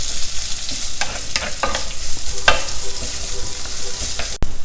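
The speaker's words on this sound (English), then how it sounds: "and stir fry the onions." Onions stir-frying in a hot pan, a steady close sizzle with a few spoon scrapes and stirring knocks and a sharp clack near the end.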